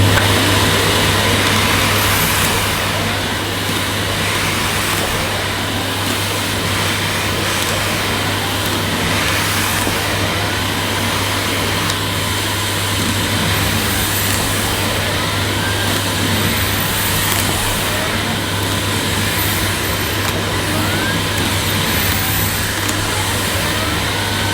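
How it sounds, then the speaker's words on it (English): Beko Airgate Pets bagless vacuum cleaner with a turbo head running over plush, long-pile carpet, a steady loud motor drone with a low hum, continuous and alone with no talk. "the turbo nozzle is certainly a lot easier to push than the standard nozzle supplied with this Beko"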